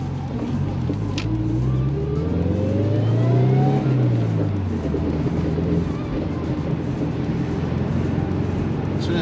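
A Subaru car drives with a steady, loud engine drone that swells into a rising rev and then settles again, heard from inside the car with people talking over the engine.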